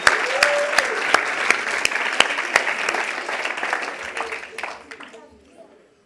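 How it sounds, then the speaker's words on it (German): Applause fills a live game show as the winner of a round is congratulated, a loud steady clapping with a few sharp claps standing out, then fading away over the last second with voices around it. "Gratuliere, Applaus für ihn."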